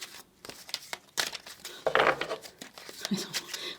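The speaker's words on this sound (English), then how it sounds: "I don't know how I'm shuffling. It's such a tall deck, so it's a little bit difficult to shuffle." Tall deck of tarot cards being shuffled by hand, giving soft papery crinkling and riffling bursts that come and go over a few seconds, close and fairly quiet with no talk.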